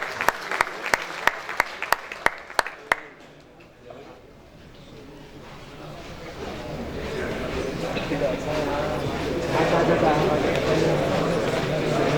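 Audience applause welcoming a professor on stage at a campus Toastmasters event, opening with a few sharp separate claps before dense clapping builds and swells louder across the hall.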